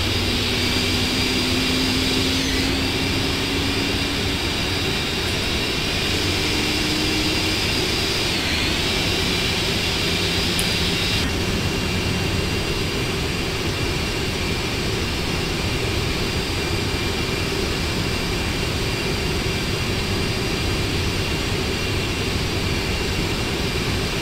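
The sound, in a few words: Boeing 747 jet engines starting up, FSX flight simulator video game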